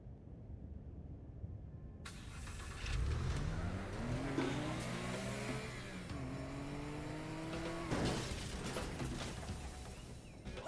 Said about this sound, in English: Well, there went that car.